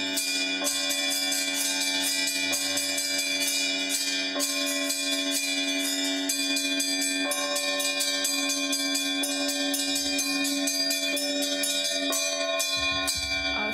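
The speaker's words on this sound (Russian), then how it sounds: "дети с удовольствием звонили в колокола" Church bells ring continuously at an Easter celebration in Tula, in a rapid, overlapping pattern, with many strikes in quick succession and a sustained metallic hum between them.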